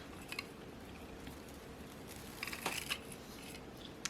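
A tassel cord for a sublimation bookmark is cut off, giving a few quick, close snipping clicks around the middle of the clip over a quiet background.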